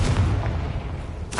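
A Confringo fire spell explodes in Hogwarts Legacy, a deep, rumbling blast with a low boom that fills the moment, ending in a brighter crackling burst.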